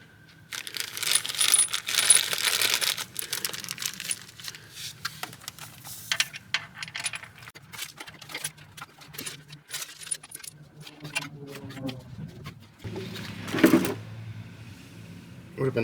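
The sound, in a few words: handling intake manifold bolts during engine rebuild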